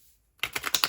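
A quick, crisp patter of cards riffling together after a moment of silence, close and brief.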